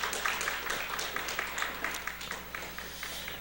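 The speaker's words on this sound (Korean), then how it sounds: "우리 해만중창팀 큰 박수 한번 해주시기를 바랍니다" Church congregation clapping for a vocal ensemble after a prayer: moderately distant, steady applause from many hands with distinct individual claps, fairly soft overall and tapering slightly.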